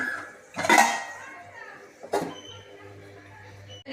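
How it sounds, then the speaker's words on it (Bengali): A lid set down onto a cooking pot makes two clattering metallic knocks about a second and a half apart, close and fairly loud, with a faint hum between them and no speech. "এবার আমি ঢাকা দিয়ে দিচ্ছি সেদ্ধ হবার জন্যে"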